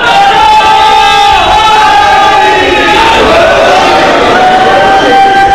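A large crowd at a Shia majlis chants slogans in unison, loud and sustained, with many voices rising and falling together in a continuous, echoing roar.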